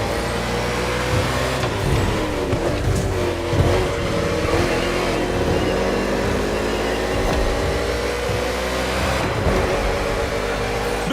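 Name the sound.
NASCAR race cars racing in Honolulu, from video game The Crew Motorfest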